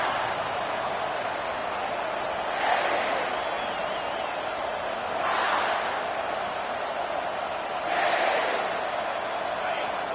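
A stadium crowd in a Madden football video game roars continuously, with cheers swelling in three waves over a constant low din while a commentator talks.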